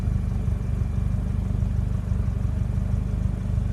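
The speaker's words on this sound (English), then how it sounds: "There's the idle." A Toyota MR2 with a turbocharged 3SGTE engine on a T3/T4 turbo idles on E85 fuel, a steady, loud, low rumbling idle with an even pulsing rhythm throughout.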